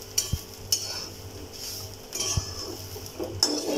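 Dried coconut is sautéed in a kadhai, heard as soft, quiet stirring with light metallic clinks and scrapes of a spoon on the pan and only a faint sizzle.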